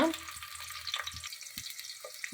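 Chopped onion drops into hot oil in a pressure cooker, bursting into a close, steady sizzle with a few soft knocks of a spoon stirring through it.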